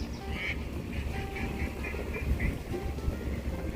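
A run of quick duck quacks from waterfowl sounds from a short distance over a low, rumbling background of water and boat engine noise.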